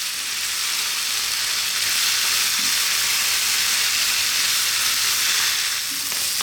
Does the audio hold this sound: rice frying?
yes